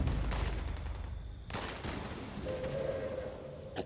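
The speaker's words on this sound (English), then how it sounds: "Alright, airstrike coming." An airstrike in the video game Fallout 76 brings loud, rolling blasts and crackling gunfire-like bursts, with a sharp new impact midway and a sustained tone in the final seconds.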